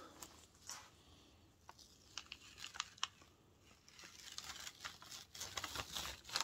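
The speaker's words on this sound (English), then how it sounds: "let's just see what this looks like when I peel it off of this paper" Inkjet-printed DTF transfer film being peeled away from its backing paper, giving a close, soft crinkling and tearing texture with scattered crackles that builds toward the end.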